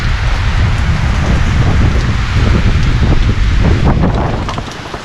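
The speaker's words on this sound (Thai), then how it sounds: "ฝนตกครับตอนนี้" Steady, heavy rain hissing down across the whole clip, with a rough rumble of wind buffeting the microphone, at Tham Phra Nong Pla Pha cave in Thakhek, Khammouane Province, Laos.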